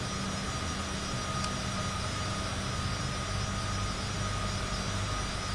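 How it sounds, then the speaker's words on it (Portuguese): A Citation CJ4 business jet takes off in a flight simulator, with a steady, broad engine roar holding at constant loudness throughout and no voices. "Ah, este decidiu levantar o voo da pista, das pistas para norte."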